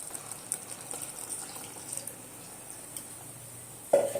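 Water pours steadily into a pan of white vegetable kurma gravy made with ground coconut, giving a soft continuous splashing hiss up close, with a brief clink near the end.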